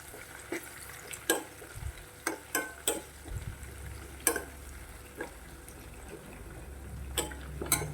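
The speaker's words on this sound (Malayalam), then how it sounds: "അരിഞ്ഞു വെച്ചേക്കുന്ന പച്ചമുളക് ചേർത്ത് കൊടുക്കാം ചേർത്ത് നന്നായിട്ടൊന്ന് ഇളക്കി മുരിച്ചെടുക്കാം" Green chillies and shallots fry in hot oil for a ginger curry, with a spoon scraping and stirring the pan in sharp, irregular knocks over a soft, continuous sizzle, close and fairly quiet.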